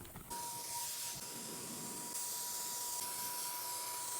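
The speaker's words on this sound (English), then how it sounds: "I'm just gonna put it in my paint sprayer and let's start priming." A paint sprayer sprays primer, hissing in a continuous, even spray with a thin steady whine, the burst starting abruptly and running without pause.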